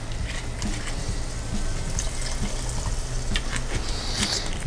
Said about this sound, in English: So I'm going to add a little bit of wine to it.